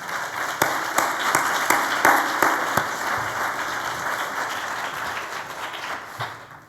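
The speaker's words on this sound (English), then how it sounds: "I think that deserves applause." An audience at a diversity and inclusion conference applauds a keynote speaker, a full burst of clapping that holds steady for several seconds with a few sharp nearby claps before fading out.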